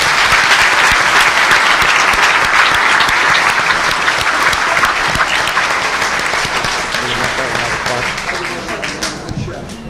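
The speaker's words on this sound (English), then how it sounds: "Can we give another round of applause for our candidates for such a spirited debate?" A debate audience for a New Jersey General Assembly race applauds loudly and steadily, a dense wash of clapping from a crowd that slowly tapers toward the end.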